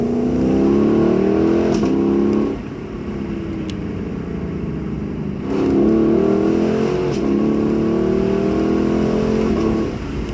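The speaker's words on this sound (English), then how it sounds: "This is how it sounds with the windows rolled down." Lexus LC500 V8 engine revving loudly with the windows down, two strong surging pulls with rising tone separated by a brief settling idle, heard up close from inside the car.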